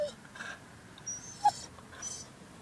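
A sad dog whimpers softly with a few faint, high whines and short sighs, heard close by in a quiet room.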